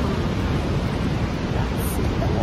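A steady, dense roar of rushing water from Niagara Falls, Ontario, fills the whole clip, loud and unbroken.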